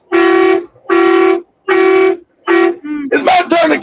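A man imitates a car horn with his voice, giving four loud, sustained honk-like tones in a steady rhythm before breaking into animated talk.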